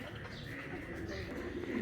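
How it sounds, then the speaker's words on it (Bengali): Pigeons coo softly and low in a short stretch, a faint murmuring call over light background noise. "এই যে এখন দুইটা কবুতর দেখা যাচ্ছে"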